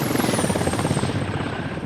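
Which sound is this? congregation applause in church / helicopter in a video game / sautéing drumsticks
helicopter in a video game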